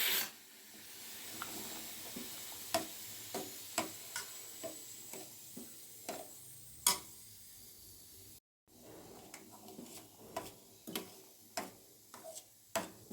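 Tempered dal with salt and red chilli simmering in a pan, heard as a soft continuous hiss with regular light ticking clicks and occasional louder taps, fairly faint and close, with no talking.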